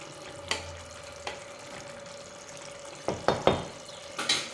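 A spoon stirs a Tamil kuzhambu curry with slit green chillies in a pan, giving a soft, steady simmer broken by several sharp scraping and clinking taps, faint and close, without talk.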